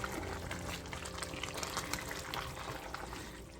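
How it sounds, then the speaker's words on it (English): Vegetable soup stirred in a pot, giving a continuous wet sloshing and liquid churn with no distinct strokes; close and steady, with no talk. "So we're gonna get this stirred up."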